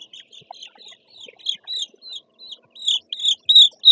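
Nine- to ten-day-old chicken chicks peeping in a brooder, a series of short, high, bright chirps repeating irregularly and growing louder and denser toward the end, close by with no talking.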